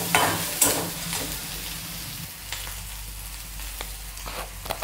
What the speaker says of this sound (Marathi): या अशा परतवून घेऊया।